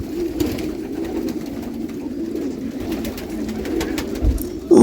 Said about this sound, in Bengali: এই দুইটার মধ্যে পুরোটাই পাট পাট করা কবুতরের ঘর সবটার মধ্যে আসলে কবুতর